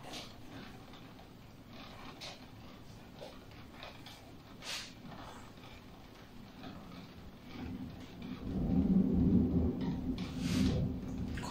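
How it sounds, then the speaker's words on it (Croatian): Rumbling thunder during a hailstorm with heavy weather outside, a steady low background swelling into a louder, deeper roll near the end, with no talking. "tako da se čuju ovi strašni zvukovi grmljavine"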